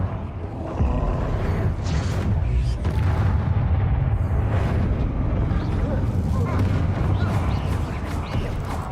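Booming explosion spell effects in a Harry Potter dueling video game, with sustained loud rumbling blasts and crackling impacts filling the scene, heard close alongside a voice calling out spells.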